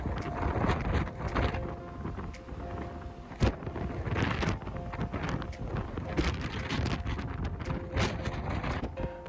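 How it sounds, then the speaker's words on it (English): Strong wind buffets a microphone on the open deck of a ferry crossing from Northern Ireland to Scotland, a loud rumbling roar in uneven gusts with occasional sharp thumps, no one speaking. "You can see how strong the wind is."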